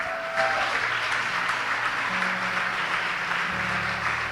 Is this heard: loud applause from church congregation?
yes